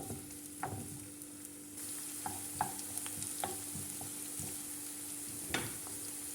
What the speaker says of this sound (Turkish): Onları da ilave ediyorum. Ve güzel şöyle 1-2 dakika soteliyorum.